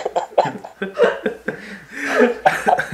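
A person clears their throat in a few rough, throaty bursts mixed with breathy, chuckle-like exhalations, close and fairly loud.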